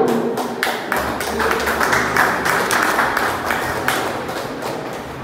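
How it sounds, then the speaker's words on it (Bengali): A crowd claps at a pigeon club prize distribution, producing uneven, fairly close claps with distinct individual hand strikes that continue steadily for several seconds. "একটু জোরে হাততালি হোক।"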